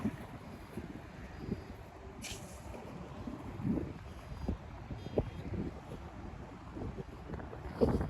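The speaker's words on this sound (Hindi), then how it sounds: "बहुत तेज़ हवा है" Strong roadside wind buffets the microphone in a steady broadband rumble with gusty swells, beside a road between Jeddah and Makkah where people gather to pray; no talk.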